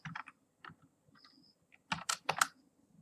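Keystrokes on a computer keyboard while entering Python print statements, irregular bursts of clicks with short pauses, a quick flurry near the end, close and moderately quiet.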